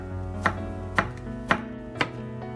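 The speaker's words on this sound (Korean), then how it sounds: "다시 애호박 채 썰기를 시작해주세요." A knife chops julienned zucchini on a cutting board in four sharp, evenly spaced knocks about half a second apart, close and clear over a quiet background hum, with no talking.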